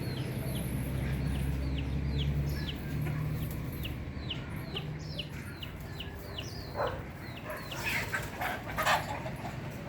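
Stray chickens at an animal shelter cluck again and again in short, quick bursts, fairly close, over a constant low background rumble, with a louder scuffle of sound toward the end.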